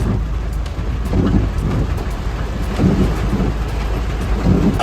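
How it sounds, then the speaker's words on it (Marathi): A heavy, constant rush of rain falling during a road trip from Baroda to Mumbai, dense and loud, with a low rumbling undertone and faint rhythmic ticking overhead, no one speaking. "हा कसला पाऊस आलाय बघा"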